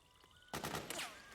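Gunfire in Metal Gear Solid 4, a quiet lead-in that breaks into a loud burst of rapid automatic shots with a ringing tail.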